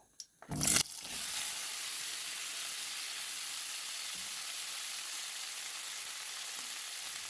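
Potatoes fry in hot oil in a preheated pan, a steady close sizzle running throughout after a brief louder burst at the start.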